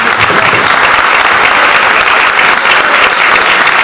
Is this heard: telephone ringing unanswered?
no